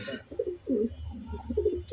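Pedigreed racing pigeons coo in a loft, with soft repeated throaty calls close by at an uneven rhythm, low to moderate in loudness.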